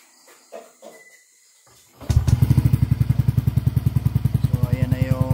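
A motorcycle exhaust fitted with a Kenochi pipe on a Mio scooter fires up after a quiet start, then idles loud and close with a steady, rapid chugging pulse.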